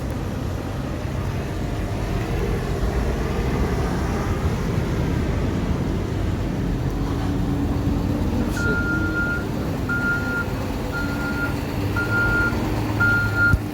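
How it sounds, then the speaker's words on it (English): A truck at a construction site reverses, its backup alarm giving a series of evenly spaced beeps over a steady heavy rumble of engines and site noise, heard from a moderate distance. "There's a lot of construction work."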